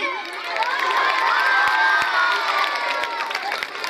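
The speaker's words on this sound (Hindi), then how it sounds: "उनके लिए भी तालियां हो जाए" A school function crowd of children and adults claps, cheers and shouts together, a loud, sustained wash of noise with excited voices rising above the applause throughout.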